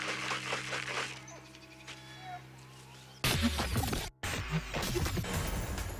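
Goats bleating on a homestead, several fairly close, loud bleats coming in bursts, followed by a clattering knock and more bleating.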